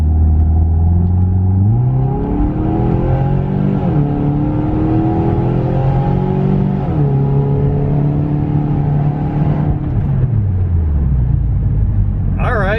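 Straight-piped Saab 9-5 wagon engine revving repeatedly, loud rumbling exhaust climbing and falling in pitch over a steady idle, close by with no talking.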